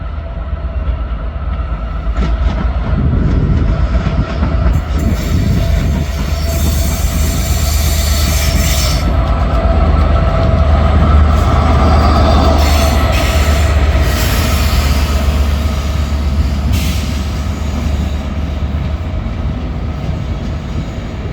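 A train pulling into Stockport station, its wheels squealing and the carriages rumbling loudly and steadily past at close range, with high metallic screeches rising and fading over a deep continuous roar.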